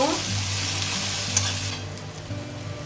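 Chopped onions frying in a pan with whole spices, garlic and ginger paste, giving a steady close sizzle with an occasional stirring clink, over a low background hum and no talking.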